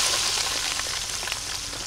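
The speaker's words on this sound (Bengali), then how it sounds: "তেলের উপরে তরকারি দিয়ে দিলাম" Vegetables just dropped into hot oil fry with a loud, dense, even sizzle, close up and continuous, no voices.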